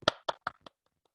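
Four quick hand claps in a quiet room, the first the loudest, followed by near silence; a brief burst of applause before a talk begins.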